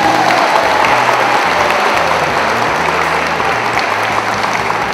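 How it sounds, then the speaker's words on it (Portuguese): An audience applauding at a meeting, a dense, steady burst of many hands clapping together, loud and close, sustained throughout, with no talk over it. "Palmas aqui para Maria"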